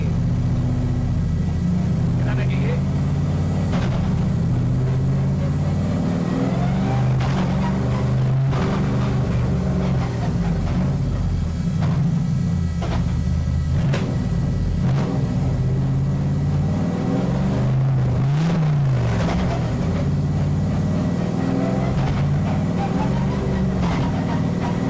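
A rally-style car fitted with a new ECU, its engine rumbling and revving loudly through clutchless upshifts, with a continuous drivetrain drone and brief shift breaks throughout.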